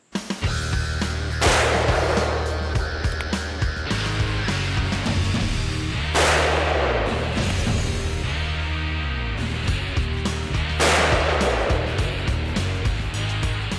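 A stainless steel big-bore revolver fired outdoors, sharp heavy shots spaced a few seconds apart, loud and close, each followed by a booming echo and a low rumbling tail.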